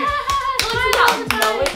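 Several people clapping at close range in rhythmic bursts with a tonal, sung or chanted backdrop, loud and lively, as at a sorority gathering.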